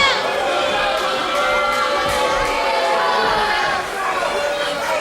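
A wrestling crowd at a live indoor event jeers and shouts against a heel wrestler, a dense, steady roar of many voices with scattered yells, heard from within the arena.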